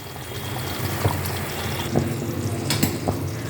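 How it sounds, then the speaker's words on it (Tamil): Pepper kuzhambu bubbling in a pot at a gentle boil, a continuous soft simmer with occasional small pops and clinks, no talk. "நான் குழம்பு கொதிச்சுட்டு இருக்கு, மிளகு குழம்பு"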